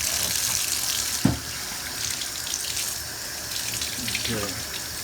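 Tap water running into a sink while a 1978 Atari Super Breakout arcade circuit board is rinsed, a loud, close, steady splashing gush with a brief knock and light talk partway through.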